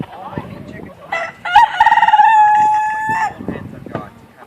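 A rooster crows loudly and close, one long drawn-out call, amid scattered clucking from nearby chickens.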